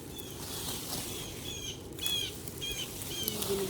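Several small birds chirp in short, high, repeated bursts over a soft outdoor hiss in a Texas backyard on a drizzly day, with light fluttering of wings; calls are moderately near and intermittent.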